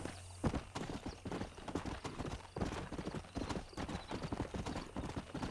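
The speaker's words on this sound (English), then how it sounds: "Calmou, calmou, cavalo." A horse in the video game Red Dead Redemption on Xbox One clatters its hooves in quick, close beats, with a brief whinny rising over the galloping rhythm.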